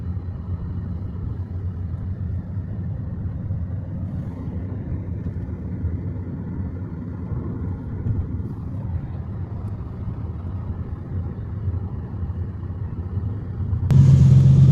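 A drift car engine at the UAE Pro Drift Academy near Ras Al Khaimah drones in a steady low rumble, heard from inside the car, then rises suddenly louder at the very end.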